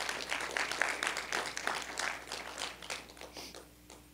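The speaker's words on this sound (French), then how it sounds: "Est-ce qu'on peut applaudir ces gens, ces anciens dans l'Église?" Church congregation applauding its elders, a steady wash of many hands clapping at moderate loudness that slowly fades toward the end.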